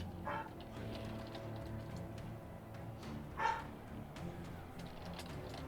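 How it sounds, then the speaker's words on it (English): A dog gives two or three brief, fairly faint barks spaced apart over a low, steady background hum. "Oh, dog's going crazy."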